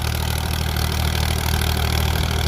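An Indo Farm 3048 DI tractor engine runs steadily while driving a Sonalika rotavator in a small field, making a continuous loud low rumble with a constant churning drone and no break throughout.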